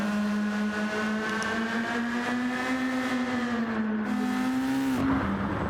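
A Toyota Supra race car in Gran Turismo 7 at Trial Mountain, its engine droning steadily at high revs with a strong, sustained tone that dips briefly near the end, loud and close with no talk.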